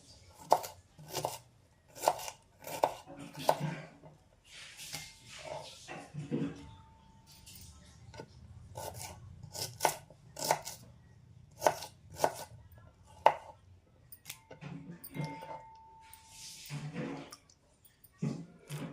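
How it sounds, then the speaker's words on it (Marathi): Onion and garlic are cut and crushed on a board, giving a series of sharp, irregular knocks and thuds that come in bursts with short pauses, close and fairly loud. "लसूणही ठेचून घेणार कांदा थोडा जाडसा कापणार आणि ठेचून घेणार आहे"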